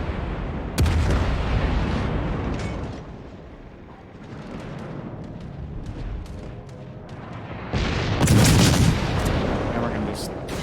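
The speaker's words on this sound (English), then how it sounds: "Switch to armor piercing, go to guns on this Pensacola" Naval guns of the heavy cruiser Pensacola in World of Warships boom in loud salvos: one sharp blast near the start, then a heavier rolling volley later, with a steady low rumble of the ship between them.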